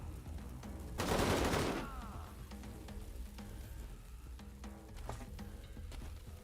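A loud, dense burst of automatic gunfire from the video game Wasteland 3 lasts about a second, then gives way to quieter game ambience with scattered soft clicks.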